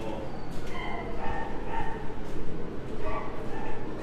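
Dogs bark and yip over and over in the intensive-care unit of the Soi Dog Foundation shelter in Phuket, mixed under a voice as he talks.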